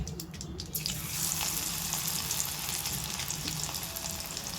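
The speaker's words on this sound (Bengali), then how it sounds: "এইভাবে সব মাছগুলো ভেজে নিচ্ছি" Prawns frying in a pan with a little oil make a continuous, close sizzle with scattered crackles and pops, steady throughout, with no voices.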